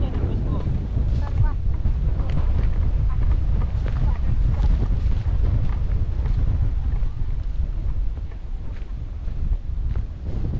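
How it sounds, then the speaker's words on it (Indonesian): Cold wind gusting steadily against the microphone on a mountain trail nearing the summit of Gunung Talang, a constant loud roar with no letup and no voices. "lebih berangin teman-teman tapi anginnya tuh dingin"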